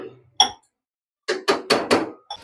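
Roasted masala being stirred into chicken in a cooking pot, a few separate scraping, clattering bursts of spoon against the vessel, close and fairly loud, with short pauses between strokes.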